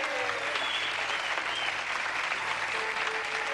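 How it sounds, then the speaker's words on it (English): Audience at an evening event applauding an artist: steady, dense clapping from a crowd, loud and sustained throughout, with a few faint voices mixed in. "Can we have a round of applause for our artist this evening?"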